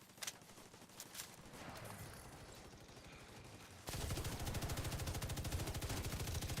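Sustained rapid rifle fire in The Division 2: Warlords of New York. Scattered shots come first, then a loud continuous automatic burst runs for the last few seconds, dense and close.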